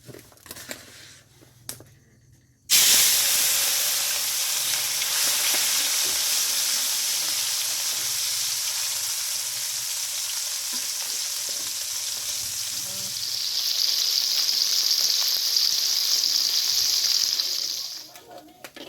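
Small fish frying in a hot pot of oil, a loud steady sizzle that erupts suddenly after a quiet start and grows brighter and more intense near the end before cutting off.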